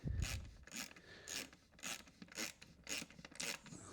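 A ratchet clicks in quick bursts while tightening cam cover bolts on a BMW E36 328i M52 engine, about seven short metallic rasping strokes, close and fairly quiet, with no talk.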